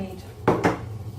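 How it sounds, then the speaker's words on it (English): Two sharp clinks of a utensil against a bowl sound close together in a kitchen, as beaten egg and flour are worked into a colcannon mixture, followed by quiet background. "Now, stir in the beaten egg and flour."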